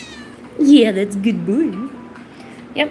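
A pet cat meows in a few drawn-out, rising and falling calls close by while a person talks to it, with one more short meow at the end.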